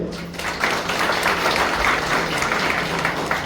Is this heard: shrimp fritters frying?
no